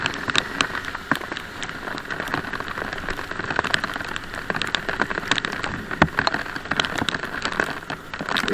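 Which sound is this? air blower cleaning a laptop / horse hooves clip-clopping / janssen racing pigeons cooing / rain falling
rain falling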